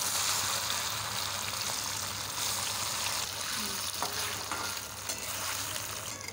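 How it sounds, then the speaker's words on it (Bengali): Cubes of paneer rubbed with salt and turmeric fry in hot oil, giving a steady, close, fairly loud sizzle that crackles evenly throughout with no talking. "পনিরটা আগে ভেজে নিচ্ছি। তেল গরম হয়ে গেছে"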